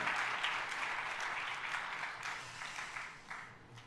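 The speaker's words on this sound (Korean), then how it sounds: "우리 격려 축복의 박수 한번 해주시길 바랍니다" A church congregation applauds at an early-morning revival service, steady dense clapping from many hands sustained throughout, fairly loud and close with slight swells and dips.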